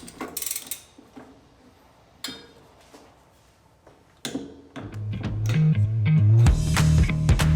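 Metal clicks and a ratcheting tool sound as a bike cassette is tightened onto an XD freehub, with scattered clinks at first, then a loud, continuous grinding ratchet toward the end.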